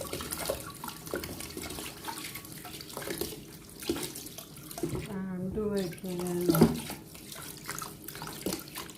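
Carrots and spring onions rinsed under a running kitchen tap, a steady splashing water stream with intermittent clatter, and a voice speaking briefly partway through.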